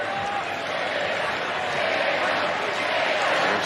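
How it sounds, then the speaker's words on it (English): WWE fans at Target Center cheer during a women's wrestling match, a broad, steady crowd roar that swells slightly, filling the arena beneath a commentator's voice. "the WWE fans here at Target Center actually cheering Baszler on"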